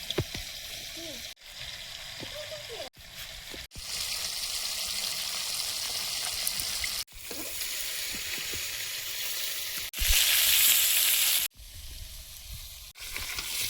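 River koi fish frying in hot oil, a loud continuous sizzle that swells and drops in several sections, with occasional spatula scrapes and faint voices in the background.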